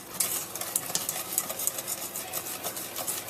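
A spoon stirs cocoa into sugar and milk in a pot, a soft rhythmic scraping and swishing with light clinks, close and steady, no voices.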